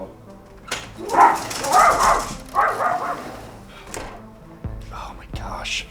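A pet dog being let outside gives several close barks and whimpering yips. They come in uneven bursts over about six seconds, mixed with some soft, whispery background voice.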